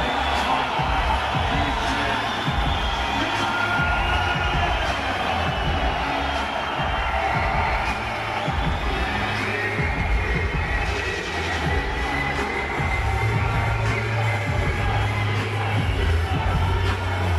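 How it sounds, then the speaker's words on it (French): Boxing arena crowd roaring steadily for a fighter's ring entrance at a World Series of Boxing bout in Paris, a dense continuous wash of cheers with a thumping low music beat underneath, loud throughout. "Écoutez l'appui du public et de la foule."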